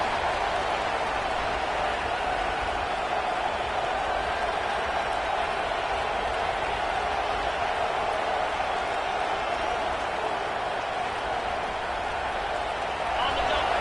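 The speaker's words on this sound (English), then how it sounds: "This crowd trying to make life miserable for this offense." Dense, steady roar of a big football stadium crowd at a college game between Notre Dame and Penn State, loud and unbroken with no distinct claps or chants standing out.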